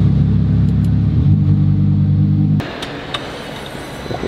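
A Lamborghini's 10-cylinder engine rumbles loudly and deeply at close range, its idle shifting pitch before dropping away abruptly, leaving a quieter background with a few faint clicks.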